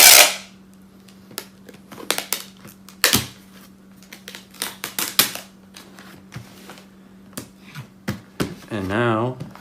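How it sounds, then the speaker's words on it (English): Packing tape pulled and pressed in a strip across a cardboard box being resealed for a Huion Kamvas 22 Plus, heard as a run of sharp crackling snaps and rips close up, ending in a tonal squeal-like stretch. "Get a nice strip of tape all the way across, just to really secure it in place."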